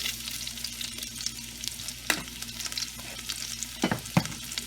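Bay leaves, ginger and shahi jeera fry in hot oil for Malabar fish biryani, giving a steady crackling sizzle punctuated by a few sharp spoon knocks and stirring scrapes.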